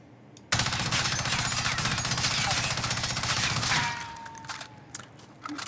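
FFAR rifle firing in the video game Warzone: one loud, sustained automatic burst of rapid shots lasting about three seconds, then a quieter tail of fading echo and faint game ambience.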